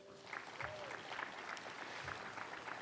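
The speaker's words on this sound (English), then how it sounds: "Mayor Pro Tem of Carson, Jim Deere, please give a round of applause." An audience at a university new-building grand opening at CSUDH applauds with faint, steady clapping throughout, with some voices underneath.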